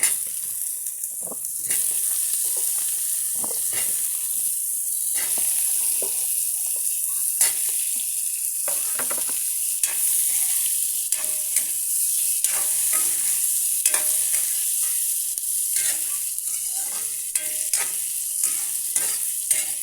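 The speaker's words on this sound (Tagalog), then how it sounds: "gisado na to mga sis at ilalagay na natin tong ating sayote" Chayote sautéing and being stirred in a pan for mussel tinola, a steady close sizzle broken by repeated scraping utensil strokes, with no talking.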